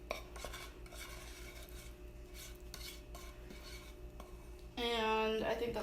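A spoon stirs a caramel corn mixture in a pot, giving a quiet run of scraping, clinking strokes against the metal, with a louder tonal squeal near the end.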